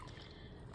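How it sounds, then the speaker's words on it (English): Water drains steadily from the drain tube of a Kenmore front-loading washing machine that won't drain, a continuous soft trickling rush. "Water's draining out."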